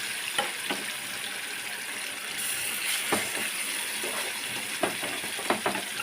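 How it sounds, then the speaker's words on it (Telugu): Chicken frying in oil in an open pan with no lid, a continuous close sizzle and hiss with occasional sharp clicks and scrapes of stirring, no voices. "మూత పెట్టకుండా ఫ్రై చేస్తాను"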